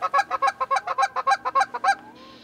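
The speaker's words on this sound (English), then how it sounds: "one lone goose had to come check us out." A single wild goose honks over a Michigan hunting spot, about a dozen loud, close, rapid calls in an even rhythm, then a short fade into quiet outdoor air.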